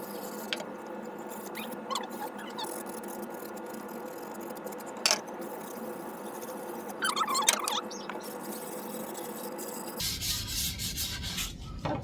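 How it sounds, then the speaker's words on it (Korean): Sandpaper rubs against pine drawer parts in soft, irregular scratchy strokes, fairly quiet and close, with a brief louder rasping burst near the end. "서랍은 조립하기 전에 홈의 반대편 방향을 사포질 해주시면 더 수월하게 할 수 있어요."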